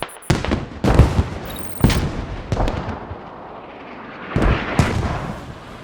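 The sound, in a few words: mortar fire in the Squad video game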